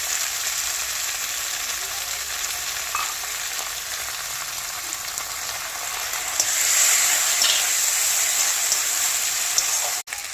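A continuous, fairly loud sizzle of spice paste frying in a pan for mutton kosha, made with ginger, garlic, onion and dried red chili pastes. The sizzle grows briefly stronger as water is poured in, then a clunk ends it.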